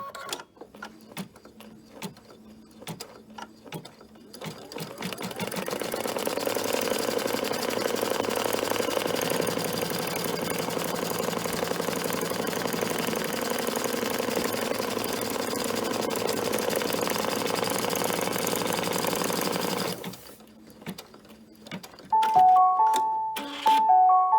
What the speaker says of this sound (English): The first stitching I'm going to do is going to be the placement stitch for our first piece of fabric.